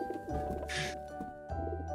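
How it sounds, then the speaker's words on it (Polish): Pigeons coo in Garry's Mod Prop Hunt, set in Santa's house: a short burst of soft bird calls around the middle of the two-second stretch, over steady in-game background sound. "Dobra, Max, posłuchasz gołębi."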